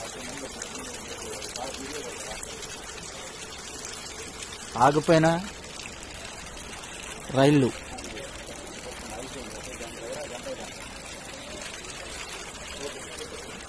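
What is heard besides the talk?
floodwater flowing over railway track at Dornakal station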